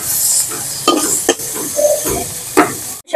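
Dried fish (shutki) fries in a pan with onions in a Bangladeshi home kitchen, giving a loud, steady sizzle broken by a few scraping stirs, close up with no talk.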